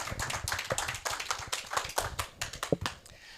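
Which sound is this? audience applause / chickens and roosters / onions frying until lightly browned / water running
audience applause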